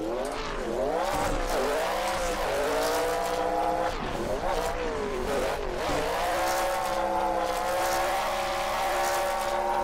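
A drift car in a racing video game riding along a wall at Irwindale, engine revving with steady rising and falling pitch and tires squealing as it slides, loud and continuous throughout.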